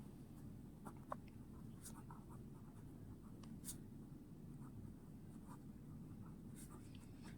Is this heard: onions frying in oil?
no